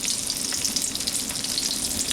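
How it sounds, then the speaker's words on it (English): Fish fillets sizzle in hot bacon grease in a pan, a continuous close, crackling hiss with fine spattering pops and no pauses. "we're just going to take our fillets and lay them in the pan. And you should hear that nice sizzle sound"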